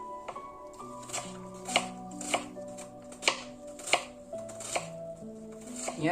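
Onions are chopped for kulche on a board with a knife, giving about eight distinct knocks at an uneven, unhurried pace. The chopping is close but fairly soft, and a quiet tonal background hums beneath it.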